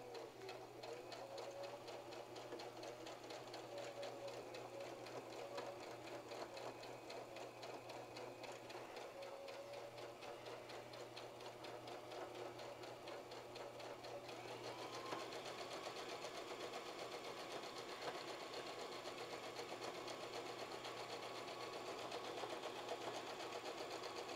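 A sewing machine runs a zigzag stitch back and forth along the edges of an aquarium filter sock, a fast, steady mechanical whir and clatter, close but quiet, continuing without pause.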